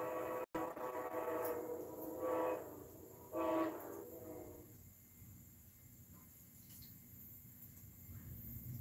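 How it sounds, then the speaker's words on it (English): A passing train sounds two loud horn blasts in the distance, each lasting about a second, over a steady rumble of rolling cars heard outdoors near a mini garden, fading to a softer rumble afterward. "Y'all know this train have to make an appearance in all my videos"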